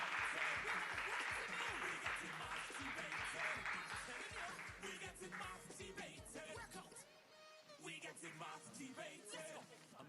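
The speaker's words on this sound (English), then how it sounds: "Give them a round of applause." Loud crowd applause for students at a mental math competition awards ceremony, dense clapping that fades after several seconds, followed by a voice speaking over the hall.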